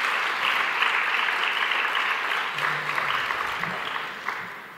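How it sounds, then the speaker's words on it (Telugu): A church congregation claps together in praise of God, a steady dense wash of many hands applauding throughout, fairly close and continuous. "నాతో పాటు మీరు కూడా చప్పట్లు కొట్టి దేవుని స్తుతించండి."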